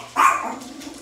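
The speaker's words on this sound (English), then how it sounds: "Dog, shut up." A dog barks once, a single sharp, fairly close bark that fades into a quiet room hum.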